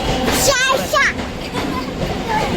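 Rumbling train noise with rattling wheels as a train arrives at a busy platform, overlapped by nearby chatter and station bustle.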